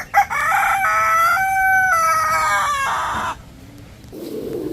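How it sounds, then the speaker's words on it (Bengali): An American Silkie rooster crows once, close and loud, in a long drawn-out call lasting about three seconds, followed by quieter background ambience. "আজকে একটা আমেরিকান সিল্কি মোরগ, একটা আমেরিকান সিল্কি মুরগি নিয়ে আসছি।"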